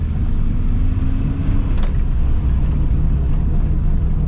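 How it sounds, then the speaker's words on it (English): Interior road noise from an MK2 VW Golf driving down the road, a loud steady low engine and tire rumble with constant wind hiss and a faint whine. "Well, we're driving down the road."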